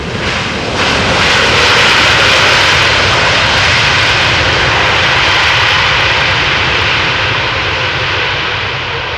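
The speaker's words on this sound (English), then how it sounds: "Dreamliner arriving from Tel Aviv" Boeing 787 Dreamliner jet arriving at Amsterdam Schiphol from Tel Aviv, a loud, steady roar of engines building quickly and holding close overhead for the whole stretch, with a broad rushing hiss and no voices.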